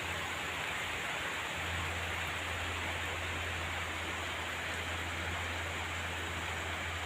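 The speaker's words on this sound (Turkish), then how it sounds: "Çok yağmur yağıyor." Steady, dense hiss of heavy rain pouring continuously in Akçaabat, Turkey, with a low hum underneath and no voices.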